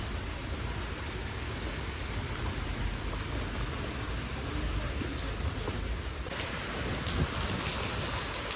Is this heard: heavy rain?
yes